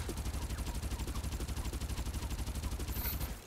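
Rapid automatic gunfire in the battle royale game Farlight 84 rattles out as a fast, evenly spaced stream of loud close shots for several seconds before cutting off.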